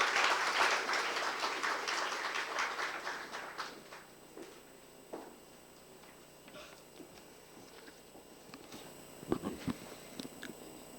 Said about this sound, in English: with a huge round of applause, please welcome on stage Professor Dr.